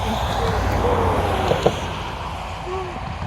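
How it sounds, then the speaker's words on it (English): Highway traffic beside a road walk on the Ice Age Trail in Wisconsin, a steady distant roadway rumble with vehicles passing, faint and continuous with no one speaking. "You can hear the traffic."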